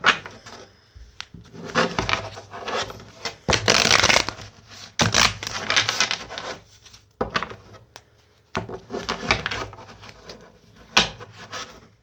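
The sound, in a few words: shuffling tarot cards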